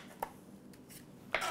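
A knife cuts thin slices from an apple, giving two short, crisp strokes, one quiet and one louder, near and alone in a quiet kitchen.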